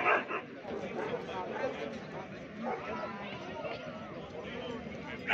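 Siberian husky dogs bark in the ring at a dog show in Vijayawada, short yaps scattered through steady crowd noise and a voice announcing over the hubbub.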